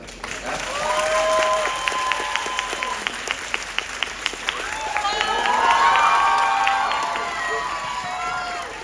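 An audience at a Korean film festival talk event in a city hall hall claps warmly to welcome a director and actors to the stage, with scattered cheers and chatter rising and falling through the sustained applause.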